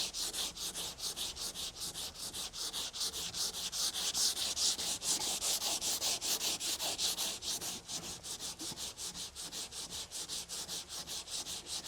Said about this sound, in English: we're going to keep sanding it until we get a nice crisp line